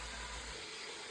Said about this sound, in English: So it's sauteing here.